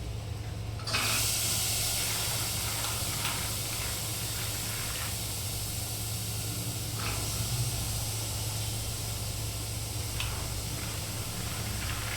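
Chickpeas added to fried masala in a hot pan, setting off a sudden loud hiss and sizzle that settles into steady close frying with faint occasional clicks, no talk.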